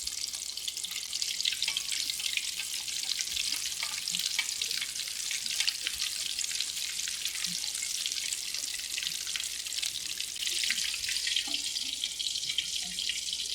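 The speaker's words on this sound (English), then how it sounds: "Deep fry it in a medium hot oil" Breaded chicken cordon bleu deep frying in medium-hot oil, a dense, even crackling hiss that runs steadily and close throughout with no speech.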